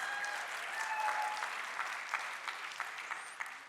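Applause from a church congregation during a sermon, a steady wash of many hands at moderate distance, fairly soft, with a few sharper claps standing out toward the end.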